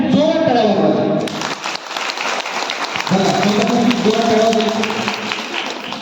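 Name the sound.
audience applause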